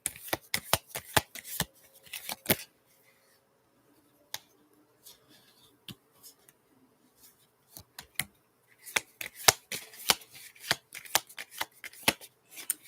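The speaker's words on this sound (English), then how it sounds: "Gotta shuffle real quick." Cards are shuffled in quick riffling bursts, crisp and close, with a quiet pause in the middle before another flurry of shuffling.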